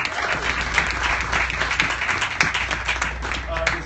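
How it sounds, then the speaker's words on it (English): An audience at a food and drink event with chefs claps together in a short, steady burst, with some talking mixed in over the clapping. "So give yourself a round of applause."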